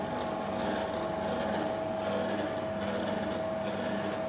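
A Telme GEL 5 machine runs with its blades spinning in water under a closed lid, giving a steady, continuous motor whir with a constant tonal hum, close and even throughout.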